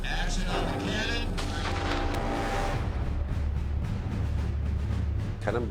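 A cannon fires on a film set for a period war movie, a deep booming blast followed by a long rumbling roar and lingering low noise that fills the clip.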